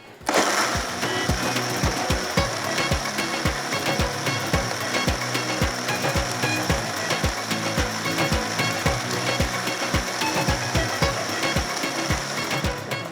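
Electric grinder whirring as it grinds whole coriander and spices, a loud steady motor hum broken by rapid rhythmic rattling knocks of the seeds against the jar.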